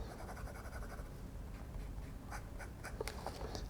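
A Nakaya fountain pen with a medium nib writing on paper, faint scratchy strokes close by against a low background, with a few sharper ticks toward the end.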